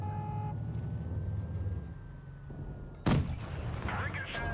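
Tank cannon shot in World of Tanks Blitz, a sudden loud blast with a sharp ricochet crack over an engine rumble, followed by game noise while a player talks.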